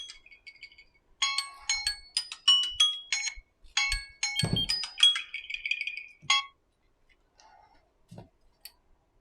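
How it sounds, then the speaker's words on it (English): A kitchen timer alarm rings through several loud bursts of bright, ringing chimes during epoxy resin curing, then falls to a few faint beeps and clicks near the end. "So that was the alarm for the 12 minutes."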